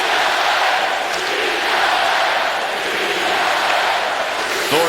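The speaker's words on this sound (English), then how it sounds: "the crowd's back in it now in a big way" An NHL hockey arena crowd at a San Jose Sharks versus Los Angeles Kings game roars in a loud, sustained swell of cheering that fills the whole stretch, with a commentator's voice faintly over it.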